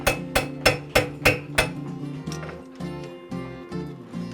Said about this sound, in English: You're working all parts of the anvil there.